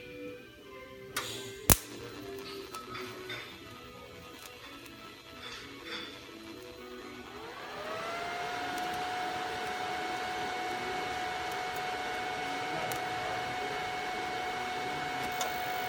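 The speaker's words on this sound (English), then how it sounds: "I weld an inch all the time. You can go straight an inch and then keep going." TIG welding on body metal of a 1971 Lincoln Continental during restoration: a few sharp clicks and taps give way to a steady, close buzzing hiss with a fixed high whine that runs on without a break.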